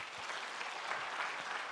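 Congregation clapping steadily at a church worship service, a dense, even wash of hand claps filling the short moment with no voices over it.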